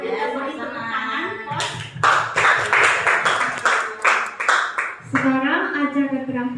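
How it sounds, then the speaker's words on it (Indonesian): An audience claps in a dense, steady patter for a few seconds at a gathering, with a speaker's voice just before and after the applause. "Kita beri tepuk tangan."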